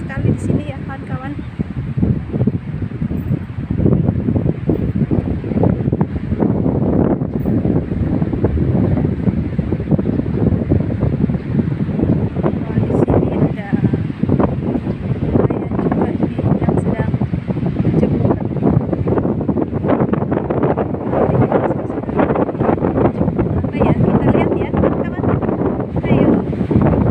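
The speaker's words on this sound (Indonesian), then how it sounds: "Anginnya kencang sekali di sini ya, kawan-kawan." Strong wind gusts through a pine forest plantation in Cilacap, a steady broadband roar buffeting the microphone for the whole stretch, loud and close, with faint voices partly buried beneath it.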